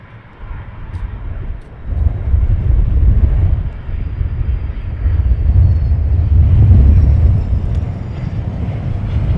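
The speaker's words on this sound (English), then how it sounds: "A Bizz Jet, business jet, from Bryce Norton" A business jet at Luton Airport roars steadily in gusty wind, a broad low rumble that swells and holds, heard from a distance outdoors with heavy wind buffeting the microphone.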